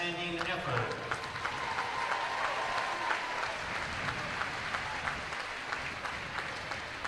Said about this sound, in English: Please give a round of applause to both of these teams for their outstanding effort.